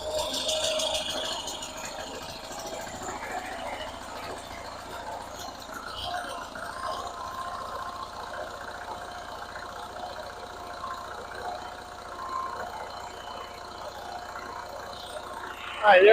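A small Onan generator engine, likely a unit in a GMC motorhome, runs steadily at a low, even hum. It sounds faint and fairly distant, and no clear misfire stands out over about sixteen seconds.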